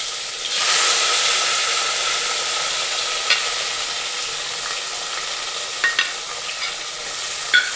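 Tomato, bay leaf, onion and carrot stir-frying in a hot pan for palak pulao, a steady close sizzle with occasional scraping stirs and small clicks of the utensil.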